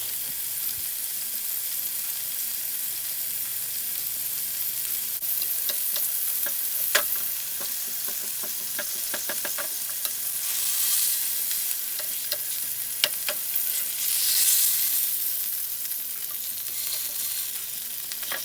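Salmon pieces fry in a pan with a steady, close sizzle and hiss, broken by clusters of sharp spatters and pops as the fish is turned, then swelling in loudness toward the end, with no voices.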